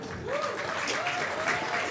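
Audience applause at an adults' horror costume contest, a steady wash of clapping from a crowd that holds at an even level throughout, with a faint voice briefly audible over it.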